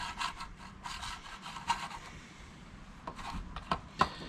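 A cheap paintbrush stirs fibreglass resin in a container while repairing fibreglass fairings, giving soft, close scraping and rubbing strokes in an irregular rhythm, alone with no voices.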